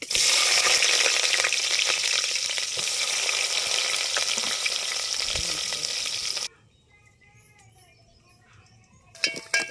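Onions hit hot oil in a pan with tempering seeds, giving a loud, dense sizzle for about six seconds before it drops to a much quieter, crackling fry.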